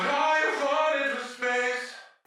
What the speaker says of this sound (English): I wanted the end of the song to sound like a transmission from space from an astronaut,